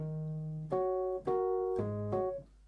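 A soft Rhodes electric piano plays a few mellow notes and chords, each gently struck and ringing briefly, quiet and alone.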